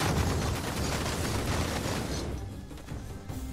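Dense crackle of massed gunpowder fire from gunners in a Total War Medieval Kingdoms 1212 AD battle, Turks against France, a loud rolling volley of overlapping booms that tapers off after a couple of seconds.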